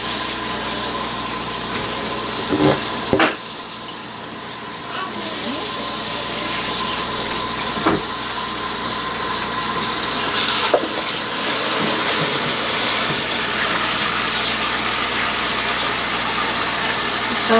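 Lukewarm tap water runs into a basin for washing wool diaper covers, a steady, loud rushing stream that continues throughout, with a few brief knocks and no talk.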